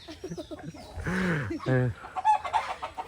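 Chickens cluck close by on a poultry farm, giving short, uneven calls that rise and fall, with a person talking among them.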